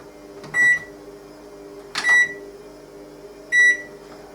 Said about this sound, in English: leave the microwave on for about, I don't know, 4 minutes, maybe 5 minutes